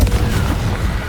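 A Confringo spell in Hogwarts Legacy hits with a loud, punchy boom, a brief heavy detonation like artillery fire followed by a dense rumbling crackle.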